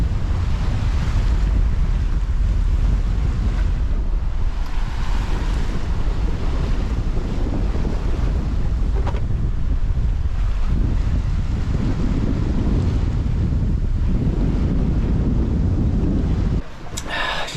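Strong 35-knot wind roars across a sailboat at sea in the South Pacific, sailing on a triple-reefed main and a small patch of genoa. The loud, continuous buffeting rush carries surf and water noise and never pauses.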